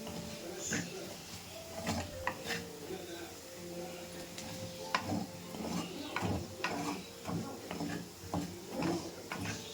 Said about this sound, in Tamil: இப்போ ஃப்ரை பண்ணுவோம்.